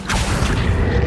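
A booming, whooshing spell effect from Hogwarts Legacy, a pulling summoning charm cast in one dense burst of rumble and airy hiss lasting about a second, loud and close.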